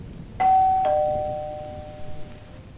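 An apartment doorbell rings with a clear two-tone ding-dong, close and loud, its ringing fading out over a couple of seconds in a quiet hallway.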